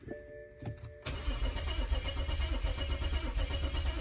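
A BMW 535i F10 xDrive engine cranks on its first start after a full timing chain replacement: a brief click, then loud, steady starter churning with a rhythmic mechanical pulse that continues without the engine catching.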